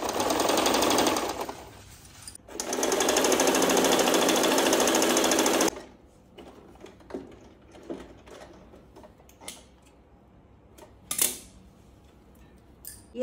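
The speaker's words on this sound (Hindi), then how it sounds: "ये बीच वाली सिलाई लगा ली दोनों टांगा पे" A sewing machine runs in two long, loud bursts while stitching the seams of pajama legs, then falls quiet to soft handling clicks and a brief final rattle.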